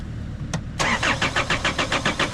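A 3-litre diesel truck engine with a fuel supply fault cranks over, a brief click and then a rapid rhythmic churning of the starter that repeats steadily, close and loud, without catching.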